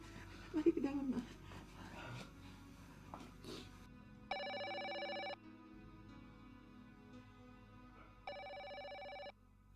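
An old-style telephone rings in a house in an Indonesian drama, two separate bursts of electric bell ringing, each about a second long, after some shuffling and a brief dog-like yelp at the start.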